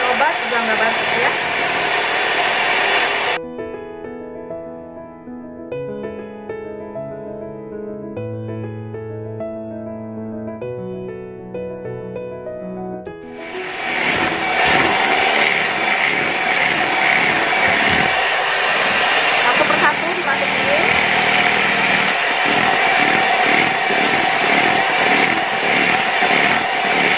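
An electric hand mixer whirs loudly, beating zebra sponge cake batter made with four eggs; the motor runs at first, stops while music plays, then returns with a steady buzz and scraping rattles against the bowl.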